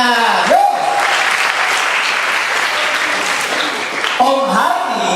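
Sustained applause from a church gathering at a holiday Bible school session, a steady wash of clapping lasting several seconds with a voice speaking briefly at the start and again near the end.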